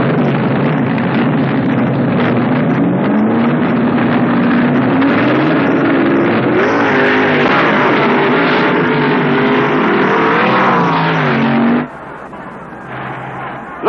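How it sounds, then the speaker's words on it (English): Twin-engine gas dragsters at the 1970 NHRA Nationals, with a loud sustained engine roar rising in pitch across the run and wind buffeting, then an abrupt drop to quieter background near the end. "a handful of twin engine gas dragsters running here this week at the Nationals"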